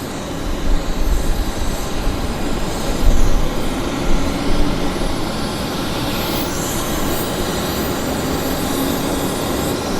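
An aircraft landing on runway 26 right at Vancouver Airport: a loud, continuous jet rumble with engine whine, swelling slightly early on and then settling into an even roar.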